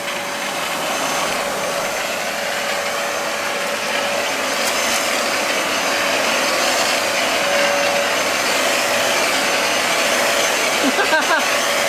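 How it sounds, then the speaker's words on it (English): Dyson DC07 vacuum cleaner running steadily while sucking up sawdust from the floor, a continuous broadband whooshing drone with a faint whine, loud and close, ending in a brief rattle. "Let's suck up some of this sawdust"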